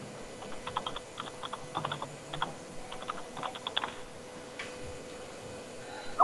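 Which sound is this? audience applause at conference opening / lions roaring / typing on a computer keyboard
typing on a computer keyboard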